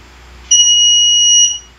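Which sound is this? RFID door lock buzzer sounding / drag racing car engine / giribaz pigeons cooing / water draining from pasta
RFID door lock buzzer sounding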